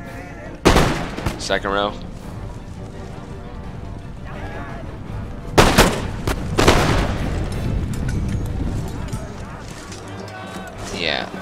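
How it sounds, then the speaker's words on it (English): Musket volleys fired by rank in the Empire Total War video game, two loud sharp broadband bursts a few seconds apart over a steady battle din, with someone speaking between the volleys. "Fire by rank men. First row fired."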